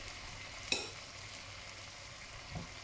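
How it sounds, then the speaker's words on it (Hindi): Egg noodles dropped into a chicken chowmein stir-fry pan: a low, steady sizzle with one sharp metallic clink near the start and a softer knock toward the end, quiet overall. "बस अब हमें इसमें नूडल्स ऐड करने हैं। तो मैं इसमें अब डाल रही हूँ नूडल्स"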